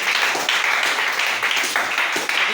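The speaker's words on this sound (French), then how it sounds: "Acclamez pour Frère Branham ça comme on fait." Church congregation applauding together for Brother Branham, a dense steady wash of clapping that holds for the whole stretch with slight swells.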